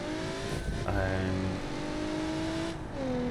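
A 2.7 V6 car engine in the BeamNG driving game revs and shifts, with rising and falling harmonic tones over a steady roar and a brief tire-squeal-like burst, loud and close.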